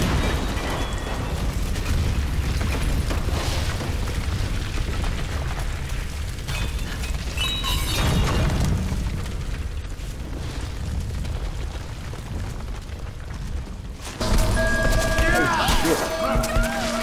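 A Tomb Raider explosion on Xbox 360 roars loud and sustained, a dense rumbling blast that keeps churning, with a fresh sharp burst near the end.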